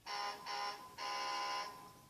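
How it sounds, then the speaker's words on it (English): A Hess 2014 toy truck's horn beeps in three electronic tones, two short and one longer, close and fairly loud with no other sound. "See the second button, beeping the horn."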